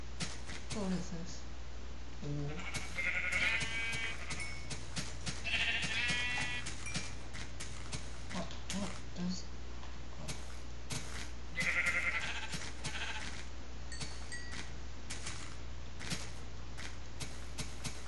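Repeated sheep bleats from Minecraft rise over a dense, steady background of game sounds and music, several short calls spaced across the stretch.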